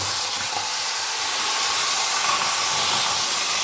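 A steady, hissing rumble runs throughout without pause as a Hornby 00 gauge GWR HST model train, pushed by its motorised power car, whirs continuously along its track.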